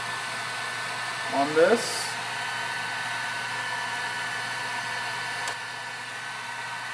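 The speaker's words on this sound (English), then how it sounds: "So we use the heat gun here to loosen up the glue" A heat gun blows a steady, even whirring rush of hot air while softening the glue on an upright piano hammer shank, continuous throughout, with a brief spoken phrase near the start.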